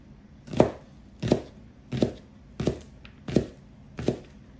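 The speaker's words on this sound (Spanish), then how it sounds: "poquito a poco, voy cortando pedacitos pequeños así," A knife chops chives into small round pieces on a board, six evenly spaced, fairly soft thuds at a slow, steady rhythm, close and alone.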